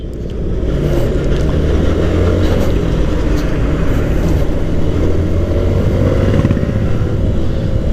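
A Suzuki Intruder motorcycle engine runs smoothly and steadily at close range, a loud, even low-pitched drone that holds without a break.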